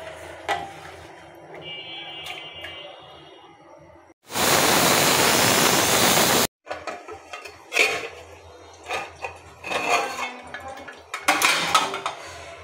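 A pressure cooker boiling figs with water and turmeric lets out one loud, sustained whistling hiss of about two seconds, with clinks and clatter of pots and utensils before and after.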